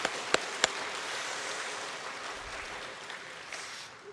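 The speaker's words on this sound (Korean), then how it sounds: "격려의 박수" Congregation applauding during a Wednesday evening church service, a steady broadband patter of many hands at moderate level filling the clip, with a few sharper knocks near the start and no talking.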